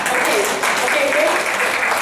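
A crowd claps loudly and continuously, a dense roar of hands from start to finish with a few voices cheering underneath.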